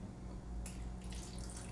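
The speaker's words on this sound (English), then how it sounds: "Then I just add more water." Water runs and splashes into a cooking pot holding apples, a close, steady pour that grows brighter partway through.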